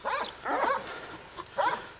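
An old dog gives three short, high, yelping barks, close by and fairly loud, with brief pauses between them and faint background noise.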